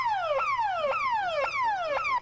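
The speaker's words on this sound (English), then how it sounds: "I have an alarm." Electronic alarm held on standby in a kitchen cooking setting, sweeping downward in pitch over and over, four loud repeating falling whoops in a steady rhythm with a faint low hum beneath and no talking.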